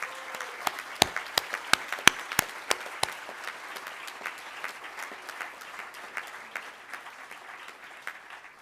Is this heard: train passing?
no